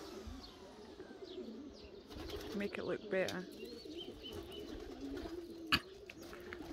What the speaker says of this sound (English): I'll actually go and have a look at the birds